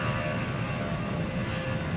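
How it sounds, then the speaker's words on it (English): Jet airplane engines spinning up for takeoff in the video game Transport Fever, a steady, loud broadband roar with a faint whine, constant and close throughout. "It makes you feel like you're on a plane when you hear those jet engines spin up."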